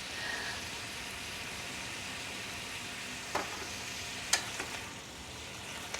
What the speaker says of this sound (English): I love to hear it sizzle.